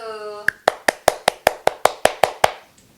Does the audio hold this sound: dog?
no